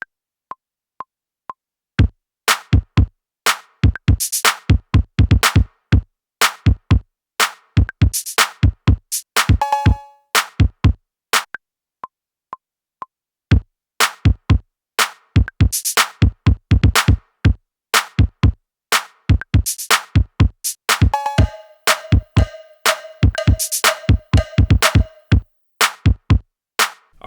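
A programmed drum beat with punchy kick, a snare layered with claps, shaker and cowbells runs in a steady groove, with brief pauses and short sections where a tonal hit rings out, loud and close with no voices.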